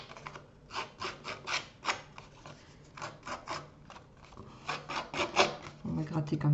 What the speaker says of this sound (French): On va gratter comme ça.